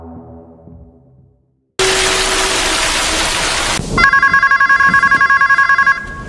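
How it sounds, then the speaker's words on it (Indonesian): A telephone rings in the middle of the night: a burst of loud hiss, then a rapid, piercing electronic ring repeating steadily for a couple of seconds, loud and close. "Di tengah malam, Terry pun terbangun setelah mendapat telepon dari DC pinjol yang memintanya untuk segera melunasi hutang."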